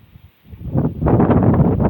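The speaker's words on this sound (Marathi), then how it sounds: "वारा बघा किती मस्त" Wind gusts into the microphone, a short rumbling rush that swells and stays loud and blustery.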